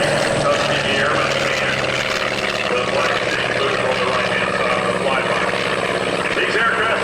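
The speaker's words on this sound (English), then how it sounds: "the two aircraft that you see flying before you today" World War II propeller fighters, including a Hellcat, fly over an airshow, a steady loud engine roar and propeller drone that holds throughout, with an announcer talking over it.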